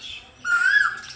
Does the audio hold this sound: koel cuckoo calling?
yes